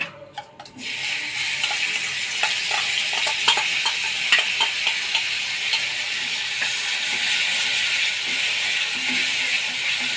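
Cumin and a spice paste of ginger paste, turmeric, chilli powder, cumin powder, yogurt and cashew paste sizzle steadily in a pan for stuffed potato dum, after a brief quiet start, with occasional stirring clicks and no talking.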